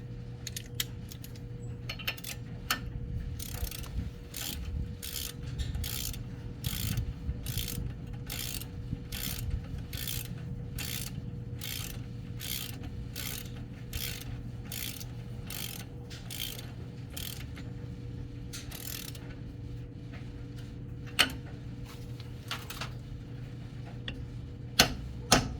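Ratcheting clicks from a wrench tightening an offroad ball joint on American Iron Offroad ball joint delete hardware, a long run of evenly spaced sharp ticks, close and moderately loud, over a steady low hum with a few louder knocks near the end.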